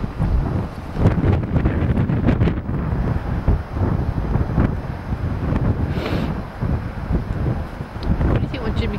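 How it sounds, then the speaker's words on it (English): Strong wind blows at a lagoon at Lancing, West Sussex, buffeting the microphone with loud, continuous roaring gusts while people talk. "Can't stand to be in that wind any longer."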